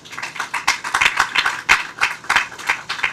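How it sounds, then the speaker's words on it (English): Audience applause at a water project ceremony, a modest crowd clapping in uneven bursts that rise and fall close to the microphone, no voices over it. "I think they deserve a big round of applause."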